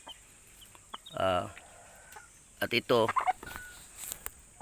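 Hens clucking in a farmyard where brooding hens sit on eggs to hatch chicks, with two bursts of layered clucks close by and a few words of speech between them.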